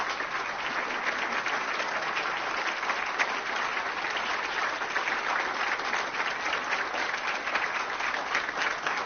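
Sustained audience applause for four award nominees, dense and even clapping from a large crowd that carries steadily for about nine seconds.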